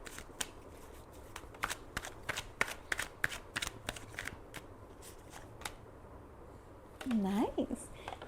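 Tarot cards shuffled by hand for a career reading, a run of quick crisp riffling snaps and taps, close, with a voice briefly heard near the end.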